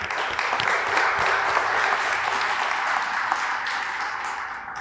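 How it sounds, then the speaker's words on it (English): Sustained applause from a crowd at a ceremonial push-in of a new fire department tower truck, steady and fairly loud throughout with no break, dense clapping filling the whole stretch. "They deserve a round of applause."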